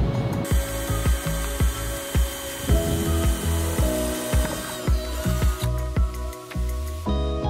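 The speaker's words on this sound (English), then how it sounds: "now I need to cut it out." A hole is being cut in the metal roof of a VW Crafter van to fit a MaxxFan, making a loud, close, steady mechanical rasping with rhythmic clicking pulses throughout.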